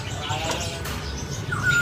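A songbird in a bird shop gives short chirps and a brief whistled note over a steady background hum.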